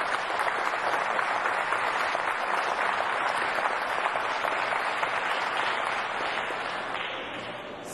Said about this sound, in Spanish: Dámosle un aplauso a mis compañeros de trabajo